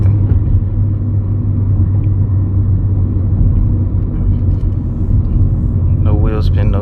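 A 2014 Nissan Sentra S accelerates in sport mode with traction control off, its engine a steady loud rumble throughout from inside the cabin, with a voice breaking in near the end.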